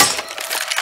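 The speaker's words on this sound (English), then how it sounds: "Throwing a Molotov." A Molotov cocktail bottle shatters in Left 4 Dead 2, a short bright crack of breaking glass followed by a brief fizzing, crackling tail, heard alone without speech.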